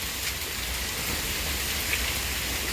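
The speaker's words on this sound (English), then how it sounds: "it's dropping hail this time. Just little small hail." Small hail pelts an outdoor swimming pool in Texas, a dense and steady patter like heavy rain that holds even throughout, close and moderately loud.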